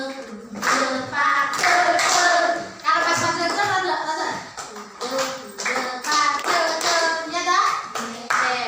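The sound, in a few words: children clapping hands as simple music accompaniment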